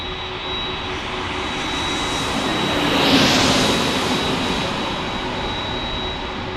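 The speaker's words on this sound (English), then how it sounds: "We have an arrival. It looks like an A321. Is it a Spirit? Oh, it is a Spirit." A Spirit Airlines Airbus A321 jet arrives overhead, its broadband engine roar swelling steadily to a loud peak near the middle and then easing slightly, continuous and alone with no talk.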